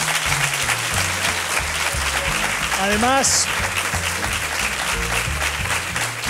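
Audience applauding on a Spanish TV show where a pop duo surprises a fan, steady loud clapping throughout with someone talking over it and music beneath.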